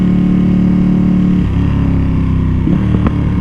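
A Ducati Panigale V2 motorcycle rides along as its rear tire is scrubbed in, its engine droning loud and close throughout, with a dip in pitch and a few sharper throttle changes near the end.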